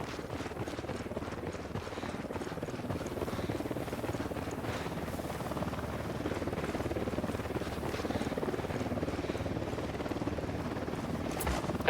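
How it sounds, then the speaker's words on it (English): In Ghost Recon Wildlands, a helicopter's rotor drone rumbles steadily beneath the game soundscape, a low continuous thrum that holds at moderate distance and grows slightly fuller over the stretch. "Helicopter incoming."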